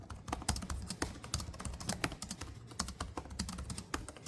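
Rapid, crisp typing on a Razer Blade 14 gaming laptop keyboard with short key travel: a steady, close stream of light clicky keystrokes with no talking.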